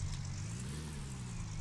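A steady low car engine drone in the video game Gold Mining Simulator hums without a break, like idling or cruising, with no voices.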